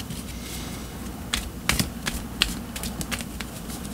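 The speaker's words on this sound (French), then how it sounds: "Je vais tirer une autre carte pour comprendre davantage." Tarot cards are handled and one is drawn from the deck, giving a scattered series of close, crisp taps and flicks over a quiet background, with no talking.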